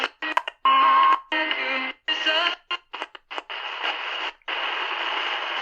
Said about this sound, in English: Right on 1180, you definitely get that birdie tone.